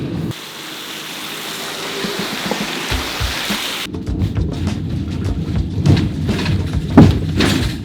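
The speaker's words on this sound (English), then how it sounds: "now it's raining" Steady broadband hiss of rain and road noise inside a moving car, shifting halfway to a rougher rumble with occasional thumps, no talking.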